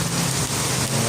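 Heavy rain from a typhoon pours down in a dense, steady roar of drops hitting surfaces, loud and continuous with no gaps.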